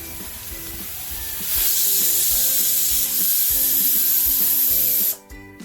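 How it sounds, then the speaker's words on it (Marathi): A pressure cooker holding mutton on full flame lets out a loud, steady hissing whistle that starts after a second and a half, holds for about four seconds, then cuts off abruptly over soft background music. "बघा अगोदर एक शिटी मी फुल फ्लेमवर करून घेते"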